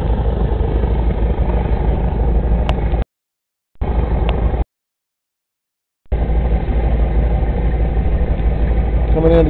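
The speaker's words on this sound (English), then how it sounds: "Here comes the airplane." A floatplane engine drones steadily as the aircraft taxis toward a dock on a fly-in fishing trip in Canada, a loud rough hum broken by two brief dropouts in the recording.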